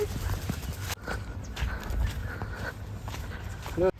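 A horse walks at a cow shelter in Barmer, Rajasthan, its hooves clip-clopping in a steady, fairly close rhythm while people talk over it.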